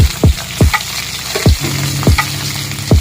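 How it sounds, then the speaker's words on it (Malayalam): Onion and curry leaves fry in garlic-infused coconut oil, a loud close sizzle punctuated by repeated clanks of a spatula stirring against the pan. "അങ്ങനെ നമ്മുടെ വെളുത്തുള്ളി വെളിച്ചെണ്ണ ഇനി നമുക്ക് ഉള്ളിയും കറിവേപ്പിലയും കൂടെ ചേർത്ത് കൊടുക്കാം"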